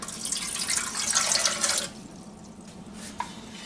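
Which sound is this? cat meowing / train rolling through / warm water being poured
warm water being poured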